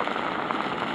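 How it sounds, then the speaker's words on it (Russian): Heavy rain from a summer thunderstorm pours down on a wet plaza by a fountain, a dense, steady hiss with no breaks across a brief moment, without speech. "Ливень уже почти закончился, гроза идет."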